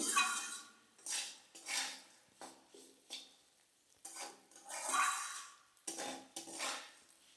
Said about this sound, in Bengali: চিড়েগুলোকে এরকম আস্তে আস্তে করে ভেজে নিতে হবে।